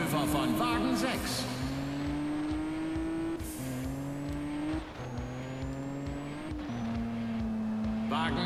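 Race cars in the video game Juiced 2 run close together with steady high engine whines and shifting pitches, one car pulling past another, with occasional tire squeal and brief gear changes, all under continuous commentary.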